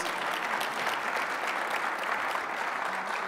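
Sustained, even round of applause from a conference audience welcoming two speakers at a Duke University Health System talk, dense clapping at moderate distance with no voices over it.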